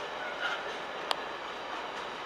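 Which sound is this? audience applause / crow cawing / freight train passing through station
freight train passing through station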